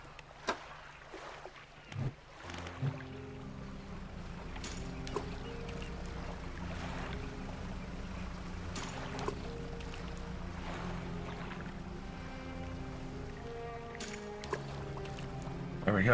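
A fishing boat in the video game Dredge chugs across the water, a faint steady engine drone with a few soft clicks and knocks over it.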